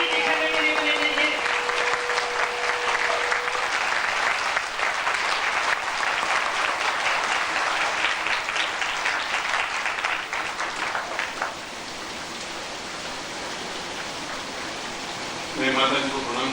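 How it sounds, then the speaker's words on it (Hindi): A crowd at a 1997 Guru Purnima spiritual retreat claps loudly and continuously, a dense wash of applause that thins toward the end as a voice starts speaking. "जोर से तालियां बजाओ कि सफल सिद्धि लेके जाएंगे"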